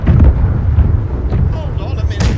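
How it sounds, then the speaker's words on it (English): Ship cannons booming during a naval battle in the pirate video game Blackwake, a heavy deep blast up front followed by rumbling echoes and scattered cracks, with players talking over the gunfire. "Left side cannons, you can go at it."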